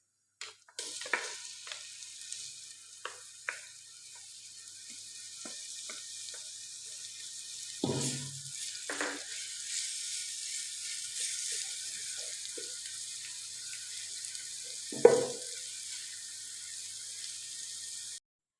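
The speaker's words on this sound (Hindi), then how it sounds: "अब इसमें शामिल करेंगे अदरक लहसुन का पेस्ट।" Ginger garlic paste sizzles steadily in hot cooking oil, a continuous bright frying hiss broken by occasional stirring clinks and a louder scrape or clatter partway through.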